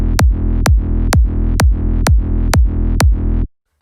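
Big room EDM drop with layered kick, sub, punch and tonal layers hitting together: eight evenly spaced heavy booming kicks with sustained tonal body between them, loud and alone, ending abruptly.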